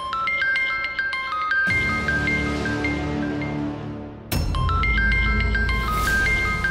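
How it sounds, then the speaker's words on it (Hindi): A melodic electronic ringtone plays loudly, looping its bright chiming pattern twice with a brief drop between. "फोन आ रहा है बेटा, उठा लो।"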